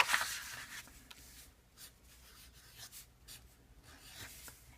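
A Bic ballpoint pen scratches across paper in close, quiet strokes, an irregular series of soft rubbing scrapes with a brief louder burst at the start.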